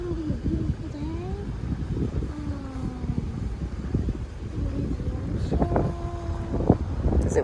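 Steady wind rumbling and buffeting the microphone outdoors, with faint voices and some background motor hum underneath.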